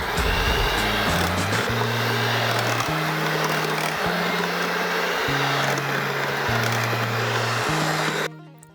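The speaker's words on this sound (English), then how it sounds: "The easiest way to shred meat is to use a hand mixer." A hand mixer shreds cooked birria meat inside an Instant Pot, a loud, steady motor whir with stepping pitch changes as the beaters churn through the meat, running continuously for several seconds before cutting off.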